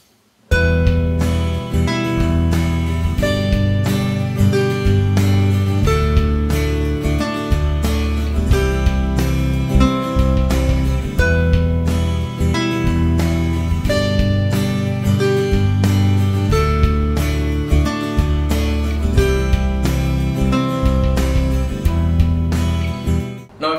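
A guitar improvises a minor melody over a full backing track with steady bass and drums, loud and continuous throughout, with no talking.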